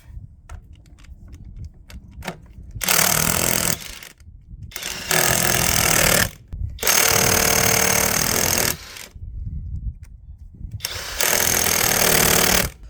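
A Geveelife 1/2-inch cordless impact wrench rated 640 ft-lbs loosens tight lug nuts, hammering in four loud sustained bursts of one to two seconds each, with quieter clinks and handling noise between them.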